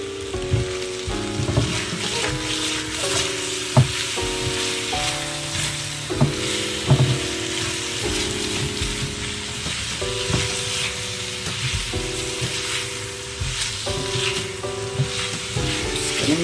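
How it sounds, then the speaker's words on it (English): Seasoned potatoes and onions sizzle steadily in a hot pan for home fries, with scraping and stirring noises over the frying and background music playing throughout. "And mix it around so that all the seasoning gets on each potato."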